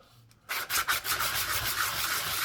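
Steady abrasive rubbing as a coin is sanded, starting abruptly after a brief quiet and continuing in close, loud, slightly pulsing strokes with no voices.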